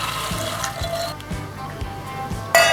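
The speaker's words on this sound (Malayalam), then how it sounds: "അതിലേക്ക് നമ്മൾ കുതിർത്ത് വെച്ചിരിക്കുന്ന വൻപയർ ഇട്ട് കൊടുക്കാം." Soaked cowpeas tumble into a pressure cooker for a Kerala-style curry, with several soft, close thuds and wet plops spaced irregularly, then a brighter splash near the end.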